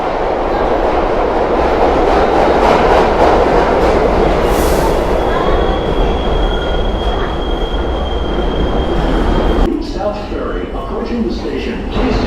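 A New York City number 1 subway train heading to the World Trade Center rumbles loudly through a tunnel, wheels squealing with a sustained high whine, then the roar eases as it slows near the end.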